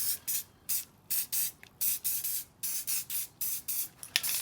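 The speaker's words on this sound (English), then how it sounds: "I'll be using this Krylon rust protector. Works out pretty well." A can of Krylon rust protector sprays in about a dozen short, evenly spaced hissing bursts, close and fairly loud, with no voices.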